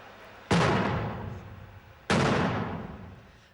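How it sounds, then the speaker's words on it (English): Two mortar rounds fired in the 2003 Iraq war, each a sharp loud blast with a long rumbling decay, about 1.6 seconds apart, with no talk. "The mortars have been busy all day."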